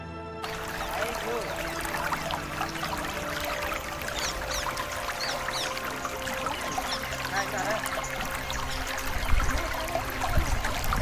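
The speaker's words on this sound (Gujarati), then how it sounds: "આ ઝરમર વરસાદ આવી રહ્યો છે. આ ઝરણું છે" A forest stream trickles and splashes steadily near Pavagadh under a light monsoon drizzle, a continuous close water sound with faint voices and other background tones mixed in.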